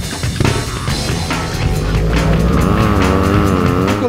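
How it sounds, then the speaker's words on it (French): A BMW R1200 GS motorcycle on a race track, rated at 125 horsepower, accelerates hard; the engine note climbs through the gears as a loud, continuous rising roar with no talking. "On commence avec la R1200 GS, qui va établir un chrono de référence."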